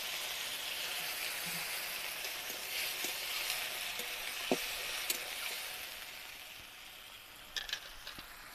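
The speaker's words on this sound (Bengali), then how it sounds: "এবারে আলুর পরিমাণে আমি জল দিয়ে দেব আলুটাকে" Water poured onto sautéed potatoes in a hot pan for alur kochuri filling, a loud continuous hiss and sizzle that eases off slightly, dotted with a few soft clinks of a spoon, without any talking.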